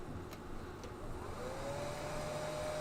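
A hair dryer runs steadily to dry layered paint on a hand-painted rainbow trout swim bait, a fairly faint continuous whirring blow whose pitch lifts slightly partway through, with no talking.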